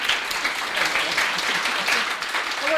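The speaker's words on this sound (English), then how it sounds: "so a round of applause" Audience applause at a conservation movement gathering welcoming a new board member, a steady wash of many hands clapping at moderate volume, with faint voices mixed in.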